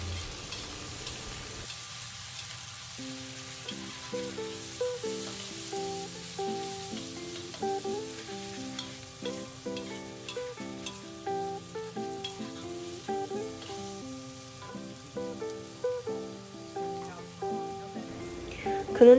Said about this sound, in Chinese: 然后开始放虾仁进行翻炒